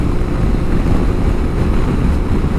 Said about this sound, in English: It is very windy. Very, very windy.